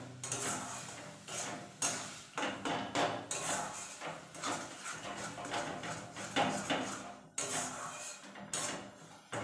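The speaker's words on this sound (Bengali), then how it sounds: "এটাকে ভালো করে আমি এখন কড়াইতে নাড়বো" Food stirred in a kadai while cooking an egg curry: a spatula scrapes and knocks against the metal pan in quick, uneven strokes that repeat steadily throughout, moderately close and alone.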